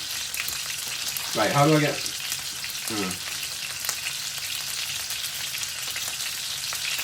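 Meatball and potato korma fries in very hot oil that spits and crackles, a steady bright sizzle with scattered pops running throughout, while a voice speaks briefly near the start.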